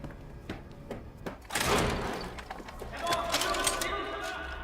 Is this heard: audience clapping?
no